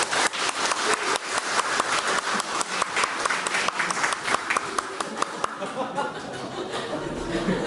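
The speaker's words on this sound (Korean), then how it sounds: "목사님께 다시 한번 박수 부탁드리겠습니다" Church audience applauding a pastor, dense steady clapping from a crowd with a few chuckles mixed in, tapering off near the end.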